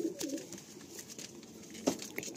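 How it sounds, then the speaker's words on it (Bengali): High flying tournament pigeons softly cooing, close and low in level, with a brief sharper call near the end over a light background hiss. "ভাই পায়রাগুলো ছেড়ে দিচ্ছে"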